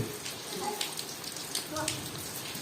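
Steady rain pattering with scattered drips and splashes close by, a continuous wet hiss.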